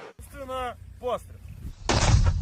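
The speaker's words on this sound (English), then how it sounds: "they got the mini mortar, the 60mm" A small 60mm mortar fires once with a single sharp, heavy boom near the end, just after a short bit of speech.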